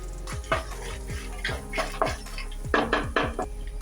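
Peanuts tossed in a pan with oil, coriander powder and red chili powder, a series of close metallic scrapes and clinks from a spoon, roughly one every half second, over a low steady hum.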